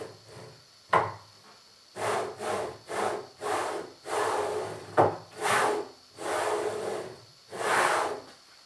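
Rhythmic rubbing, rolling whooshes of a homemade 3D printer's XY carriage sliding back and forth, about eight even passes with a couple of sharper knocks, close and fairly clear.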